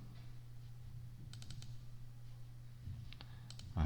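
A computer mouse clicks in small clusters, several quick light clicks close up over a low steady hum.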